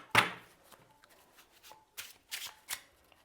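Tarot cards shuffled by hand nearby, opening with one sharp riffle and followed by several softer bursts of card flicks and slides at irregular intervals.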